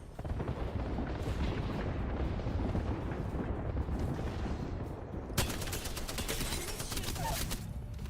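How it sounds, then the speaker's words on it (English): Airstrike explosions in Apex Legends: a dense, continuous roar of rumbling blasts and booms, loud and sustained, then sharper crackling bursts toward the end. "Watch it! Airstrike!"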